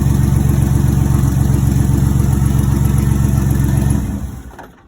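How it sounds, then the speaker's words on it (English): A turbocharged 4.3 litre GMC Syclone engine runs close by with a loud, steady, throbbing idle, then cuts off and winds down near the end. "Sounds like a V8."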